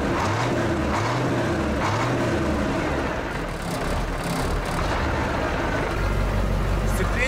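Heavy KAZ 4x4 truck engine running with a rough, throbbing idle and rumble, while people talk over it.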